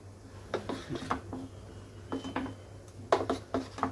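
A spoon scrapes and clinks against a bowl while bun dosa batter is stirred with soda and asafoetida, in quiet irregular strokes under a steady low kitchen hum.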